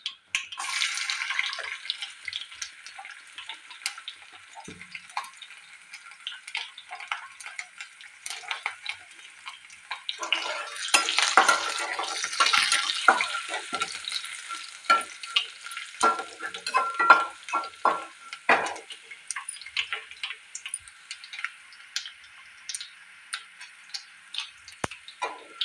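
Garlic fries in hot oil with cumin, mustard seeds and green chilies, giving a close, continuous crackling sizzle full of rapid pops and spits. The frying swells louder for a stretch midway, and no voices are heard.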